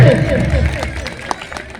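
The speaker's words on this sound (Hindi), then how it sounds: "और अब मंच की एक बार जोरदार तालियां दीजिए।" Applause from the audience at a Hindi poetry gathering (kavi sammelan) in Rudrapur, 2022, a brief burst of clapping with crowd noise, loud at first and thinning out quickly.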